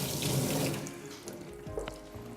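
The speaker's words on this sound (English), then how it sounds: "Grab my knife, give it a quick wash" A knife rinsed under a running kitchen tap, with steady water splashing into a sink that eases off midway, followed by a few light knocks and clinks nearby.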